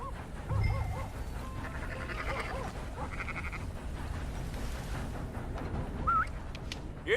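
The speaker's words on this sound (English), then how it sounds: "That's a dog in there." A dog barking and whimpering inside a barn in the video game Red Dead Redemption 2, with short yelps and whines over a low ambient bed amid other faint game sounds.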